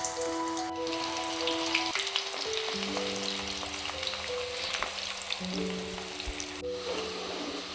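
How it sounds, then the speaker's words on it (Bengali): Potatoes fry in hot refined oil in a wok, making a constant soft sizzle with faint steady tones underneath. "তেল গরম হলেই আলুগুলো অল্প অল্প করে ভেজে নেব"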